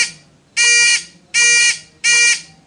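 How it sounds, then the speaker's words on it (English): Three loud, identical beeps from a basic transistor-circuit electronic door alarm sound at a steady rhythm, each a bright, buzzy tone lasting about half a second with short gaps between. "As he enters the door, the beep starts beeping."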